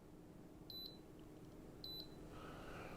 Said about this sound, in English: When you get those 5 beeps, it's done